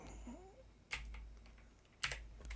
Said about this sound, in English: my bad typing.